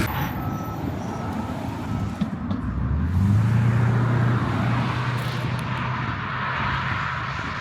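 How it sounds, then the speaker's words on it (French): A Porsche Cayenne Turbo S, leaving Le Mans Classic, drives past as a rising engine drone that peaks after about three seconds and then slowly fades, over a constant bed of traffic noise. "Cayenne Turbo S les gars"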